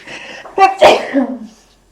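A single close, sharp sneeze with a quick inhaled buildup, ending abruptly and followed by a brief fading breath, then quiet.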